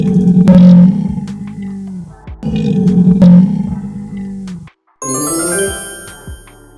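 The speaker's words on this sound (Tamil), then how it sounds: "புலி" A tiger gives two deep, loud roars in a row, close and alone, then a brief silence before a jingling chime.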